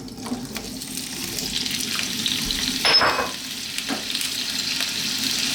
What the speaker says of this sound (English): on and above medium heat, we need to fry these potatoes around for about 4 to 5 minutes